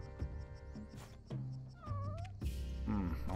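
A cat in Spelunky gives several distinct meows, some with rising and falling pitch, close and fairly clear, separated by short thumps and game noise.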